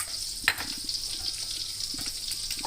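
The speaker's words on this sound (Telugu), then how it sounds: "జీలకర్ర, ఆవాలు, ఒక ఎండుమిర్చి వేసి మంచిగా వేగనిద్దాము" Cumin, mustard seeds, urad dal and a dried red chilli fry in hot oil as a tempering, giving a steady close sizzle with one brief sharp clatter near the start.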